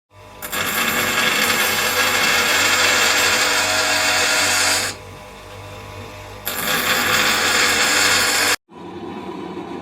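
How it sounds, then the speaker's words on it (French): A bench grinder runs in a home workshop where a folding knife is being made, giving a loud, steady whirring roar that dips to a quieter hum midway, rises again, then cuts off briefly near the end. "je disposais aussi du touret à meuler"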